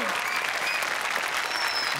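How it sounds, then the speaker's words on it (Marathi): Steady, dense applause from a studio audience on a Marathi TV comedy show stage, loud and continuous with no clear break. "जोरदार टाळ्या झाल्या पाहिजे"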